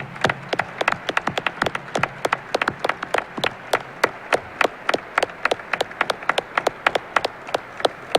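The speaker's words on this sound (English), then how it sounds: "can we have another round of applause for these young men?" Applause for senior basketball players at a press conference comes from just a few people, sharp distinct claps that arrive unevenly, sometimes clustered and sometimes spaced out, continuing for several seconds in a quiet room with no talking.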